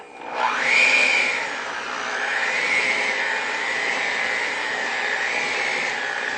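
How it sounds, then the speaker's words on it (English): An electric mixer whirs steadily as it beats thick chocolate cake frosting, its motor pitch rising briefly at startup and then holding a constant loaded drone, close and alone. "We'll grab our mixer one last time."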